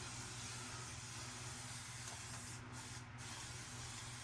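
Hair spray hissing from a can during an at-home haircut, a continuous close, loud spray lasting the whole moment, with two brief gaps near the end and no talk.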